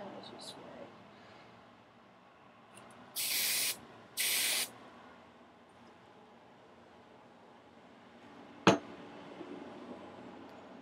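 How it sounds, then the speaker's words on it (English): Two short bursts of hairspray hiss from an aerosol can, close and clear, sprayed onto hair being set in a pinup style with victory rolls, followed later by a single sharp knock in an otherwise quiet room. "And spray away the hairspray and try to smooth out as much as you can as you spray."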